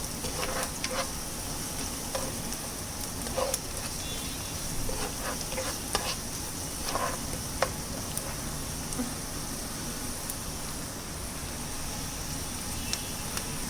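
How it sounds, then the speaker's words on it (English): Ginger garlic paste sizzles steadily in a hot pan while a spoon stirs it, giving a constant frying hiss with occasional light scraping taps. "Now we will add our freshly crushed ginger garlic paste. Okay, mix it nicely."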